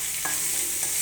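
Ginger, garlic, turmeric and curry leaves frying as a tempering in hot oil, a steady soft sizzle with a couple of faint stirring scrapes, no talking.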